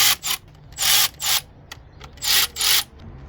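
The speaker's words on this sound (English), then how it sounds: "I used a 10mm socket and ratchet to remove these bolts" Ratchet and 10mm socket loosening valve cover bolts on a 1998 Honda Civic DX, heard as bright bursts of rapid clicking, several short runs in quick succession, close and loud with no talk.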